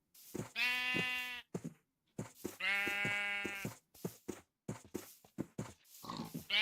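Minecraft sheep bleating twice in close succession, each a strong, buzzing baa lasting about a second, with clicky taps and small knocks scattered between them.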